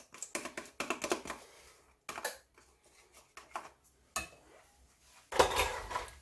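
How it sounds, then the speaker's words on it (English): Spoon scooping and emptying sour cream into a vanilla cheesecake mixture in a bowl, heard as a series of close, sharp clinks and taps against the bowl in irregular bursts, with no talking. "just take a spoon and just empty our sour cream into that as well"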